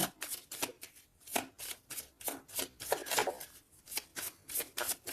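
Tarot cards are shuffled by hand, a run of crisp, papery riffles and flicks in an uneven rhythm, each burst sharp and close, with no voices over them.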